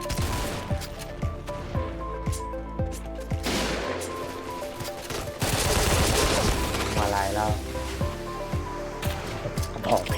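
Rapid bursts of AK-47 gunfire in the game Point Blank, repeated sharp shots in quick succession with a louder flurry midway, over background game ambience.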